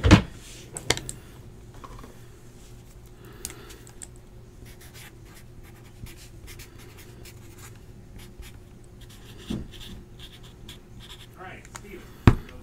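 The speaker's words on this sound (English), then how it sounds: "Let me go ahead and write that down so my sorters know where that goes." A pen scratches across paper in light, irregular strokes, faint and close, with a couple of sharper clicks and taps at the start and end, while a person talks intermittently.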